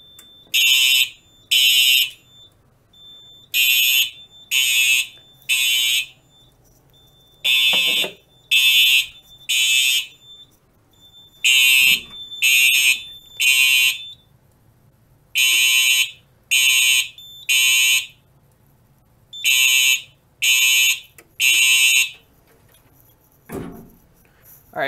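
Simplex TrueAlert fire alarm horns blaring during a Simplex 4010 panel test, loud repeating bursts of three shrill tones separated by pauses, a temporal-three pattern cycling again and again with no talking.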